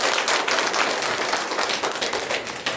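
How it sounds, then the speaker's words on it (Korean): Steady, dense applause from a sizable crowd at a Buddhist temple gathering fills the whole stretch, many hands clapping at once with no voices standing out. "다시 한 번 더 큰 박수 부탁드리겠습니다"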